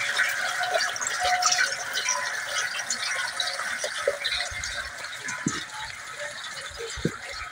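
Water flowing steadily over a Corten steel water table fed by an electric pump in a Japanese garden, a continuous close splashing trickle with a few small clinks and drips.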